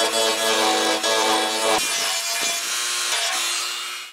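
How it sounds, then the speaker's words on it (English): Dremel rotary tool sanding scratches off the metal air cleaner assembly of a Mercedes-Benz W126 S-Class, a close, loud abrasive grinding whine with a brief dip before it fades out. "using a Dremel tool with various bits, I'm going to see if I can remove that."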